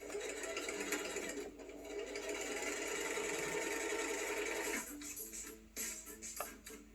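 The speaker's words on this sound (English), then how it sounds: "all you do is sew it up, and that's what we're going to do right now" A sewing machine stitches a leather table runner with a steady, fast mechanical whirr that runs continuously, then slows and stutters near the end, heard close up.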